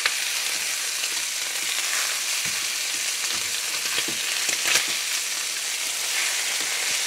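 Brown sugar rubbed pork chops sizzling in a hot pan just after being flipped, a loud, constant close-up sizzle with scattered sharp pops and crackles and no talking.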